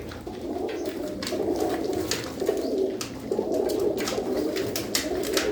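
Many pigeons coo together in a loft, a dense, continuous bed of overlapping throaty calls at fairly close range with no pauses.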